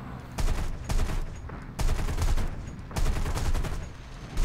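Loud bursts of rapid aircraft cannon fire in War Thunder crackle in several volleys of roughly a second each, separated by short pauses, with an engine roar underneath.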